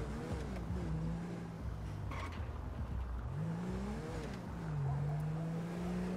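A car engine hums and shifts pitch while driving in the video game GTA 5, rising and falling revs under steady game ambience, with no voices heard.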